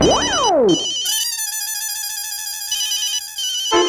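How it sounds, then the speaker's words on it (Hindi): Electronic phone ringtone: a quick rising-and-falling sweep, then a sustained bright synthetic melody playing loudly and clearly, with no voices. "बॉस का फोन आ गया"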